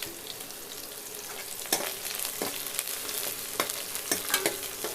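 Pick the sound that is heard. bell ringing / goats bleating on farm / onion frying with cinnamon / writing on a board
onion frying with cinnamon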